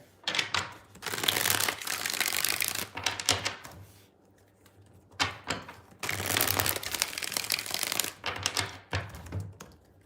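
Tarot cards being shuffled in repeated bursts of crisp riffling and flapping, each lasting a couple of seconds, with short quiet gaps between them.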